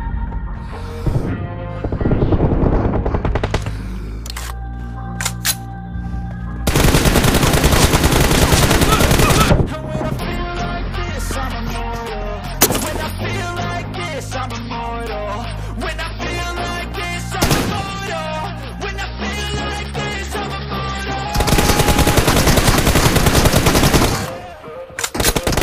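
M416 rifle fire in the game BGMI comes in loud, rapid automatic bursts, some long and some short, mixed with music and game sounds, with short quiet gaps between volleys.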